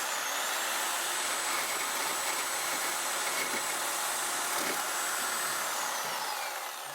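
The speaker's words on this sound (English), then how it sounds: "I'm gonna cut through you, Mr. Sawzall" A Sawzall reciprocating saw cuts through brake line fittings, a steady buzzing roar with a high whine that runs close and loud before tapering at the end.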